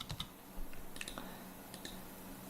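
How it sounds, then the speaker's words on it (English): Someone types on a computer keyboard. It comes through as quiet, scattered clusters of key clicks at an uneven pace, close by, with no talk. "So if you type in convert VDB"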